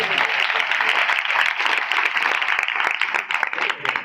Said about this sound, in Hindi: जोरदार तालियां बजाएं खुदा के कलाम के लिए,